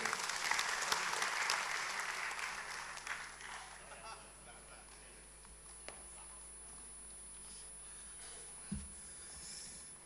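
Audience applause at an advocates' inauguration ceremony swells at first, then fades into scattered light clapping and murmuring crowd noise in a large hall, with a brief thump near the end.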